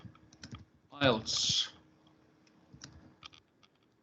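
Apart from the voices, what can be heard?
typing on a computer keyboard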